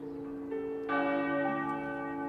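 A church bell rings out over a town, a sustained resonant tone that swells after a softer start and then lingers, heard alone without voices.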